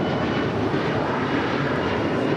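Steady, loud roar of jet airliner engines at LAX airport, a continuous broadband rumble holding level for the whole stretch with no voices over it.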